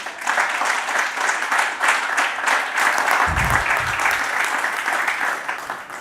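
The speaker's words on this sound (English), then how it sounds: "another hearty applause for our keynote speaker" Sustained, dense applause from a conference audience honoring a keynote speaker at a sustainable business report launch, loud and steady throughout with a brief low thump midway.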